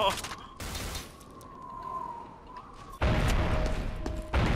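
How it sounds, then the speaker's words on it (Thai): Explosions and crashing impacts from the game F.E.A.R. Online burst out loudly amid steady background noise, with a sharp heavy blast near the end. "โอ้ยระเบิดที่ตีนอีกแล้ว"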